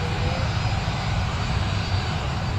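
Airliner flying overhead at Newcastle Airport, a steady, loud broadband engine roar held evenly throughout with no talk.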